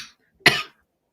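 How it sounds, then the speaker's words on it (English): A single sharp cough from an adult during a live broadcast, one short burst standing alone against near silence. "I still have an occasional cough."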